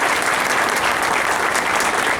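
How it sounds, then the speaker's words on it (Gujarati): A dense, loud wall of applause from a crowd at an awards ceremony fills the whole moment, steady and close with no voices over it. "દોસ્તો તાળીઓથી આપણે વધાવીશું।"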